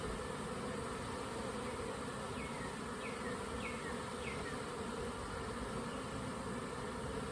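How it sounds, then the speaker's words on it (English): Honey bees shaken in a jar for a mite count give a steady, close buzzing drone, a dense continuous hum that holds level throughout with no voices over it. "We've got bees in the jar. Shake them around"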